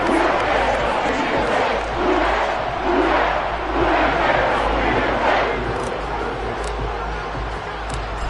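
Stadium crowd noise from the video game Madden 23 during a first-half football game: a broad, steady roar that swells and ebbs under a muffled commentary voice.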